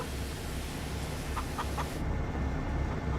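Chickens in the farming video game Farming Simulator 25 give three quick, faint clucks beneath a loud, steady mechanical hiss that fills the whole scene.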